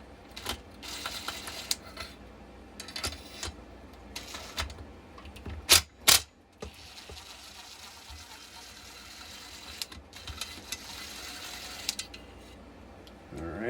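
Metal tools clicking and ratcheting against the bolts of a Stihl MS 271 chainsaw muffler, light scattered clicks with two sharp louder knocks near the middle, close by in a quiet workshop with no talk.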